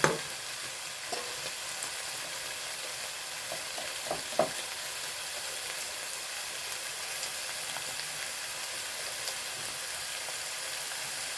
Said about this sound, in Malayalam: ഇനി അതിലിട്ട് കൊടുക്കുന്നുണ്ട് ചിക്കനെ എന്നിട്ട് ഒന്ന് ഇളക്കി കൊടുക്കുക